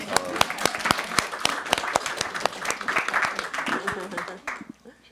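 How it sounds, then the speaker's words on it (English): An audience at a press club discussion claps for a speaker, with sharp, close individual claps in a busy, uneven rhythm under cheering and talk, fading out near the end. "And a round of applause for Patrick"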